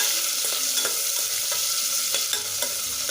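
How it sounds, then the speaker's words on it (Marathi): Onion sautéing in a pan for Nashik rice makes a steady, bright frying hiss, with regular soft scrapes and taps of stirring running through it. "थोडासा कांदा परतून घ्यायचा"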